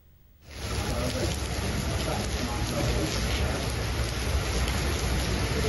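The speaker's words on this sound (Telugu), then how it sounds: "జోరు వాన కురిసింది" Heavy pre-monsoon rain pours down in Hyderabad, a dense, loud, unbroken roar that starts abruptly and then holds steady throughout.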